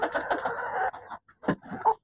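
A Golden Misri hen clucks in short, busy bursts with brief pauses, close by, over faint farmyard noise.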